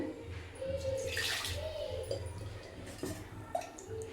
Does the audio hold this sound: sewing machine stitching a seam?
no